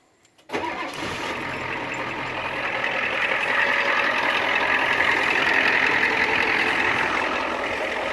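A Ford 7.3 liter IDI diesel truck engine turns over and starts, then settles into a loud, steady rumbling idle that holds close and even to the end.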